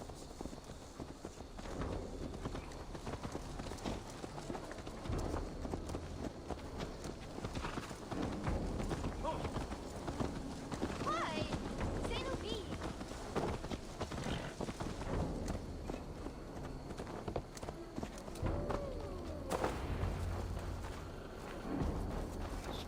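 A horse's hooves clip-clop steadily in Assassin's Creed Valhalla, a faint, continuous rhythmic patter of walking and trotting steps under an ambient game soundscape, running the whole stretch without voices.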